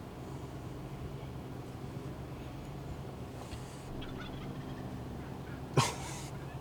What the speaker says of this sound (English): We heard gobbles.